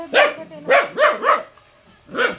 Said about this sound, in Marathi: कुत्रा आहे म्हणलं हो.